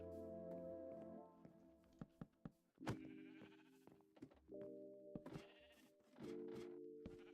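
Sheep in the video game Minecraft bleat repeatedly in short, wavering cries, loud and close, separated by gaps with occasional soft in-game thuds and clicks.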